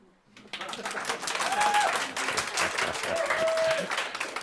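A crowd claps steadily in sustained applause that swells quickly and holds, a dense patter of many hands.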